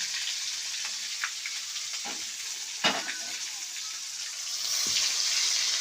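Stuffed brinjals and potatoes sizzle steadily in a kadhai over a wood-fired stove, a constant hiss with occasional spatters and stirring clinks.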